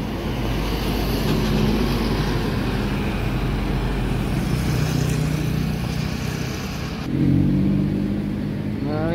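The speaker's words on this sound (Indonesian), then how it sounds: "Melintas lagi bis Medal Jaya" A Medal Jaya bus on the Depok–Sukabumi route passes along Cikidang main road in Sukabumi: a steady, loud engine and tyre rumble that swells briefly near the end, with no voices.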